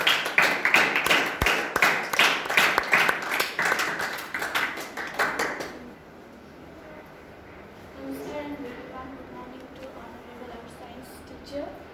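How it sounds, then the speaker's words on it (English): A school audience welcomes a grade 8 student presenter with rhythmic, loud unison clapping for about six seconds, then it stops and quiet room sound and faint talk follow. "Let's welcome her on the stage with huge round of applause."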